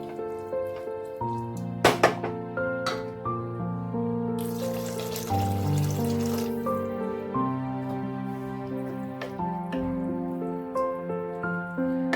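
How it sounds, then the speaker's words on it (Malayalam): Water poured into a pan of bitter gourd curry cooking on the stove: a short rushing splash, heard mostly beneath steady background music. "ഇതിനകത്തോട്ട് കുറച്ച് വെള്ളം കൂടെ ഒഴിച്ചു കൊടുക്കാം."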